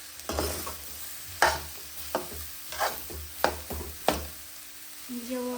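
A spoon stirs chana dal and jaggery in a pan over low heat for puran poli filling, giving repeated scraping strokes and soft sizzling, close and clear with no talk.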